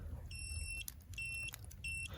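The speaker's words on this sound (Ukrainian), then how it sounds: "Бачите, накриваю рукою пищить." The dashboard of a Motoleader ML200 ATV gives three short bursts of high electronic beeping in quick succession, close and clear, with faint rustling between them.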